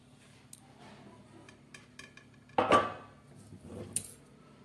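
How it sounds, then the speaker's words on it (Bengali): A metal lid set onto a cooking pot of bean, potato and cauliflower vegetable curry after the gas stove is switched off: one close, bright clank with a short ringing tail, then a faint clink in a quiet kitchen. "গ্যাসটা অফ করে একটা ঢাকা দিয়ে দিচ্ছি"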